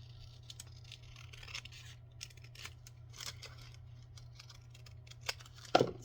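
Scissors trimming a paper envelope, a faint series of small snips and paper scrapes at close range over a steady low hum, with a louder crinkle near the end.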